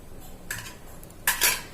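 A pressure cooker being opened in a home kitchen while cooking chicken gravy: two short bursts of metallic clanking and scraping from the lid, the second louder and more hissing, close up with no talk.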